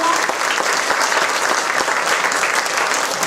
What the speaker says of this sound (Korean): 우리 미래 유권자들을 위해서 어른들 큰 박수 한번 부탁드리고요